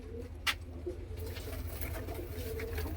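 A red Cheena pigeon cooing softly up close, low repeated coos over a steady hum of background noise.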